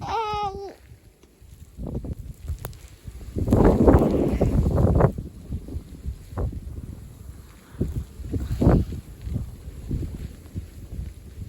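Strong wind gusting at about 60 km/h during a snowstorm in Canada, a steady roar buffeting the microphone with louder surges and rumbling bursts, no voices over it.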